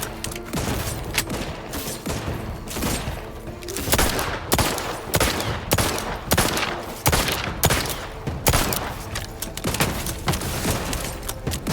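Rapid gunfire from The Outer Worlds 2, dense bursts of shots and automatic fire in a sustained loud fusillade with no talk over it.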